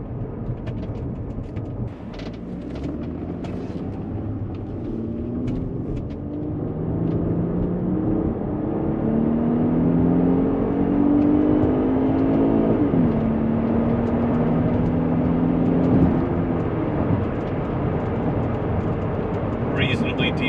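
A 2006 Audi A6 3.2 Avant with a V6 accelerates up a freeway on-ramp, engine pitch climbing and dropping with each gear change, a steady loud drone heard from inside the cabin with no talking.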